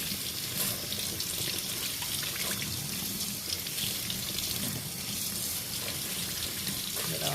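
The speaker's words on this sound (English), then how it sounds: "Okay, so now I'm just going to wash down here the bulb" Tap running steadily over a beet bulb being washed clean at a sink, a continuous close splashing hiss of water with small shifts as the root is moved under the stream.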